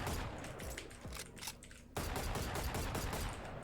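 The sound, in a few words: gunfire from a video game gun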